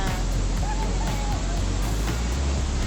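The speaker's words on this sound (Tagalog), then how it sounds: "malakas yung alon ngayon dito" Strong ocean waves roll in at Bagasbas Beach at high tide under an overcast sky, a continuous loud roar of surf with wind blowing across it.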